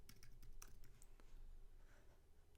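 Fingers type a username and password on a computer keyboard, a quick run of light key clicks, soft and close, with a few sharper taps and brief pauses between them.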